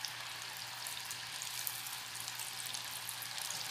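Potato balls fry in hot oil with a steady, dense sizzle and bubbling hiss that runs unbroken and fairly quiet, with no voices over it.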